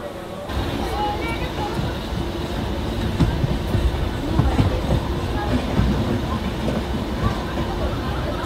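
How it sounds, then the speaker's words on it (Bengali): A local train pulls out of Howrah railway station on the line toward Digha, its wheels and carriages giving a steady, loud rumble throughout, with faint voices blended into the background. "জাস্ট ট্রেনটা আমাদের হাওড়া স্টেশন থেকে ছাড়লো"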